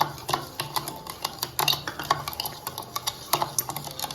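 Sugar, butter and milk are beaten by hand in a bowl for chocolate chip cookie batter, giving close, quick, irregular clicks and taps of the utensil against the bowl.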